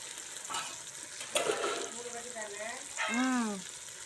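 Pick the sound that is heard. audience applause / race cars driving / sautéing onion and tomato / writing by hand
sautéing onion and tomato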